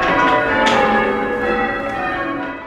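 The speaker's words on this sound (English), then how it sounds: "parishioners throughout the land have been summoned to worship by the sound of church bells" Church bells ring at St Mary's in Walton-on-Thames, a loud, sustained wash of overlapping metallic tones with a few fresh strikes, filling the whole stretch with no voices.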